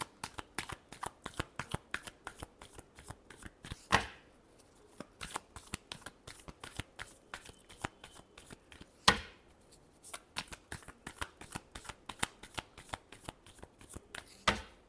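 Tarot cards are shuffled again and again in rapid riffling bursts, crisp and close, with a few sharper snaps where the deck is squared or cut.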